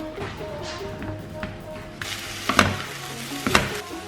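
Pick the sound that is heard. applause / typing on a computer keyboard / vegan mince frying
vegan mince frying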